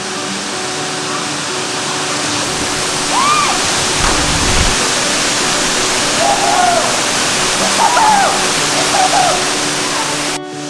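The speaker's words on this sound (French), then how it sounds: "Nouvelle découverte à Serge Beil aujourd'hui, la cascade" A steady, roaring waterfall at Serge Beil, Lebanon, fills the scene with broad rushing noise, close and loud, with a few faint chirps or calls rising above it.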